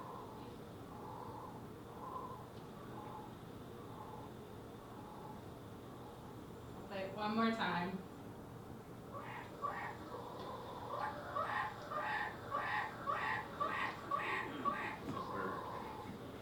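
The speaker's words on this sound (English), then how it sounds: "It turns out it was a Lesson's motmot, which is a bird about the size of a magpie" A harsh, rapid series of hooting calls from a Lesson's motmot, a magpie-sized bird, repeated in bursts over steady background hiss, with a brief spoken remark near the end.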